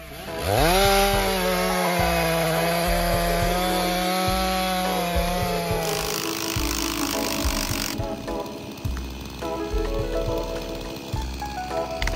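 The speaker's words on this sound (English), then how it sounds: "The MS500i chainsaw, with its unstoppable power, not only helps him cut down trees continuously" A Stihl MS500i chainsaw cuts down trees with a loud, sustained high-revving whine that bogs and rises as it bites into wood, heard close up for twelve seconds with no talking.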